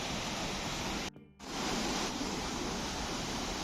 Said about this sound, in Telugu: వచ్చేసాం ఇదే వాటర్ ఫాల్